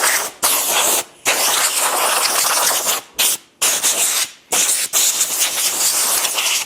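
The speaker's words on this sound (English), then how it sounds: "get an air hose, blow off that initial dust that might be left over from the sanding process." An air hose blasts dust off sanded wood in repeated bursts of loud hissing air, separated by short pauses, with no talking.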